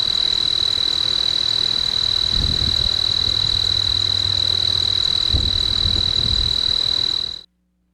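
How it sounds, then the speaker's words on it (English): A loud, steady insect drone of cicadas and crickets fills a summer day beside a gravel road, one continuous high buzz holding throughout with a few low thumps underneath before it cuts off abruptly. "the sound was so amazing of the cicadas and the crickets"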